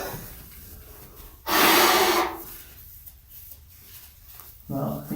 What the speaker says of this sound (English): he's just blowing his nose on a public YouTube video